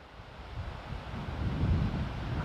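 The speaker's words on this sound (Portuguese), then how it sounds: "Está-se a pôr um pouco de vento, é?" Outdoor wind buffets the microphone beside a small bonfire, a low rumbling gust that builds steadily over a couple of seconds, with no talking.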